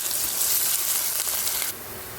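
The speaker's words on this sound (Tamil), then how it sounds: "பொடிசாக வச்சுருக்க பெரிய வெங்காயம் இதை போட்டுட்டு நம்ம இதை பொன்னிறமாக வதக்கணும்" Chopped large onions and slit green chilies sautéing in a pan for egg curry, giving a steady bright sizzle close by that drops slightly in level near the end.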